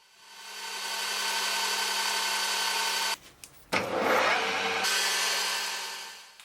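Abrasive foam resin block scrubbing the metal thread of a century-old mini coffee grinder, a steady close rasping rub with a brief break, then a louder, rougher burst of scrubbing.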